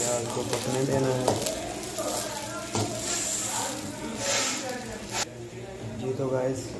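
Onions sizzle as they fry in oil in a pan while macaroni is being made, a continuous crackling hiss with brief stirring scrapes, heard under a person talking throughout.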